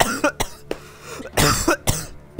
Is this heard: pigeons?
no